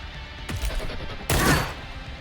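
Two loud gunshots from the tactical video game Cyber Knights Flashpoint, a sharp crack followed by a heavier, fuller blast about a second later, each with a short decaying tail.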